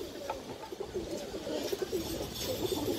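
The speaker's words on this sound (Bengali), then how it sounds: "এই যে দেখেন আপনারা কবুতরটা" A black-tailed pigeon gives soft, rhythmic coos, several short throaty pulses repeating close by over a low ambient hiss.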